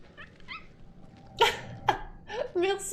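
A pet cat makes small, high chirping noises around a person's quick sneezes, faint chirps first, then two sharp sneeze bursts and a longer wavering cat sound close by.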